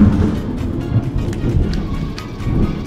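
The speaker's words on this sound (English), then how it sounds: "That was a big lightning strike." A heavy lightning strike in Mario Kart Wii brings a dense, loud rumble of thunder with rain-like hiss, rolling steadily for a few seconds with a few sharper crackles.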